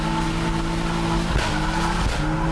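Cars drifting at a Japanese drift event with a Toyota JZX100, B324R and AE86, engines roaring loudly while tires squeal in sustained, wavering screeches nearby.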